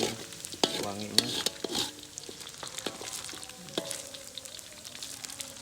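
Eel fries in a pan outdoors in a garden, a steady crackling sizzle with scraping stirring strokes near the start, close and fairly quiet, with no talking.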